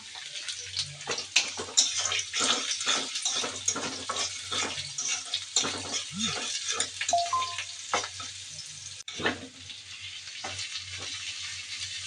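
Beans and potato bhaji frying in a home kitchen, a steady close sizzle with crackles and occasional stirring scrapes, moderately quiet and continuous, with no talking.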